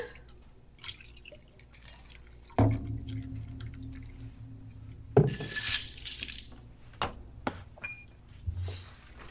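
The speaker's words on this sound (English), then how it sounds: "So just strain it straight into your fresh glass." A cocktail is poured from a shaker straight into a glass over ice without a strainer, giving a trickling liquid pour with sharp clinks and knocks of ice and glassware at close range.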